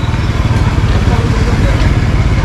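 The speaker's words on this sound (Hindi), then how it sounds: "आगे मोटरसाइकिल जो आ रही है उसके लिए हमें यहाँ पर रुकना पड़ेगा" A motorcycle approaches on a narrow, dirty road in Karachi, its engine giving a loud, close, steady low putter with a rapid pulsing rhythm.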